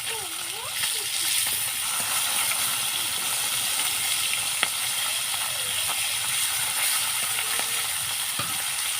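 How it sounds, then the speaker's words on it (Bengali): Fish pieces fry in a pan of oil, one side already browned before being flipped, giving a steady, fairly loud hiss and crackle that continues throughout with faint background sounds. "মাছগুলো দেখো এক পিঠ ভাজা হয়ে গেছে, আর এখন আমি একটা একটা করে আবার উল্টে দেবো।"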